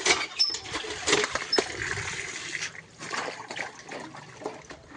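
Fruit from a home garden being washed in water, with trickling, splashing and dribbling water and small knocks from the handling, running steadily and close by.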